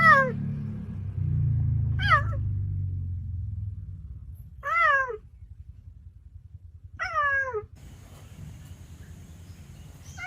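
A domestic cat meows four times, a drawn-out call roughly every two to three seconds, fairly close and clear, with a low rumble beneath the first few seconds and near silence between the calls.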